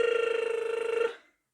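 A warm-up lip trill, held as one steady buzzing pitch for about a second before stopping abruptly, with no talking.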